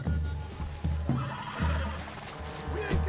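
A horse in the video game Red Dead Redemption 2 gives a loud, close whinny, with hoof clip-clops and other game sounds underneath, all of it sustained and fairly busy.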